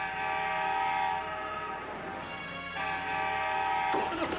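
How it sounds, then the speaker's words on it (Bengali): A cartoon train rolls past with a sustained tonal horn blaring over steady rail rumble, loud and close, ending with an abrupt brighter burst. "train train পুয়াপ পুয়াপ"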